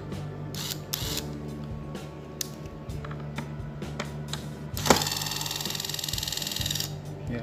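A JB801 electric screwdriver whirs steadily as it unscrews a bolt from a TV, preceded by clicks and handling knocks, close and fairly loud.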